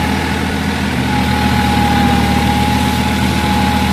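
A Massey Ferguson 9500 tractor engine runs with a mulcher attached, a loud, steady, close drone with a constant low hum throughout.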